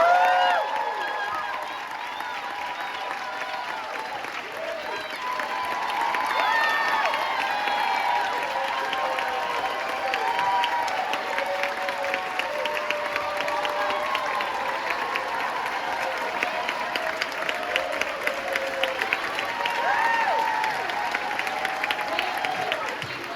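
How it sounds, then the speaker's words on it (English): A theatre audience applauds the crew at a closing-night curtain call, giving loud, sustained clapping with crowd noise and scattered cheers for the whole stretch, with faint voices mixed in. "Will you please applaud for them?"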